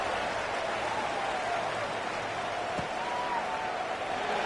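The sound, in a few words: stadium crowd buzzing after a touchdown at a college football game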